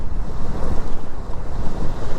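A powerful waterfall fed by melting snow rushes beside a mountain road between Sach Pass and Tandi, producing a steady, loud broadband roar of falling water with no pauses.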